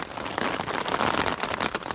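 Heavy rain patters steadily on a tent in wild Canadian mountains, a dense, close, continuous drumming with no voices.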